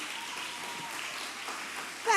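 Brief burst of fuller audience applause at a youth symposium, dense clapping throughout the short stretch with a voice starting right at the end.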